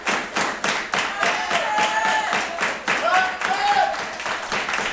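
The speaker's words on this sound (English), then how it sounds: "Crowd's trying to get him back into it." A wrestling crowd claps in steady rhythmic unison, loud and close, with scattered shouts and whistles mixed in.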